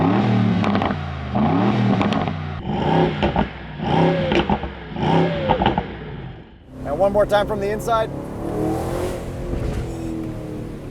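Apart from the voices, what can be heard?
2026 Aston Martin Vantage Roadster exhaust backfires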